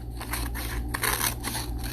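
Repeated crisp snipping of scissors through paper, several cuts in a steady rhythm, close by over a low background hum.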